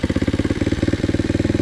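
A Loncin 110/125 motorcycle engine runs steadily at idle, its fast, even thumping pulses loud and close with a slight clatter, and no voices over it.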